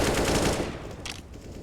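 Gunfire in a Counter-Strike style match: a rapid burst of close shots at the start, fading into quieter game ambience.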